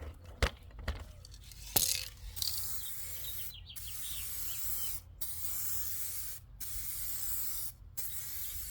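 An aerosol spray can sends clear coat onto a Honda Accord headlight in a steady, close hissing spray, broken by several short pauses between passes, after a few faint clicks at the start.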